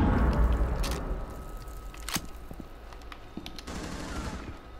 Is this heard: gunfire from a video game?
yes